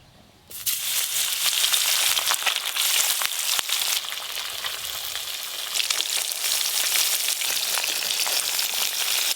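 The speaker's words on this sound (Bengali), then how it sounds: "তেল গরম হয়ে গেছে, এবার মাছগুলো ভেজে নেব।" Fish frying in hot oil, a loud, steady sizzle bursting in abruptly and then crackling continuously close up with no voices.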